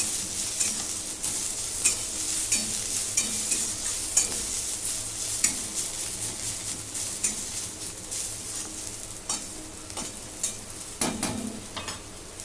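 Roasted green chilies and a little fresh coriander sizzle as they are sautéed in a pan, with steady frying hiss throughout and repeated scrapes and clinks of a spoon stirring against the metal.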